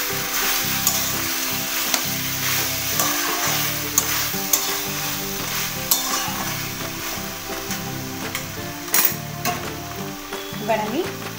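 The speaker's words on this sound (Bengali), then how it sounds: "এবার ভালো করে নাড়াচাড়া করে আলু করে সঙ্গে মশলাটাকে ভালো করে মিশিয়ে নেব।" Potatoes and young jackfruit are stirred with spice paste in a hot pan for echor jhal, a continuous sizzle of frying broken by scraping strokes and occasional sharp clinks of the spoon against the metal.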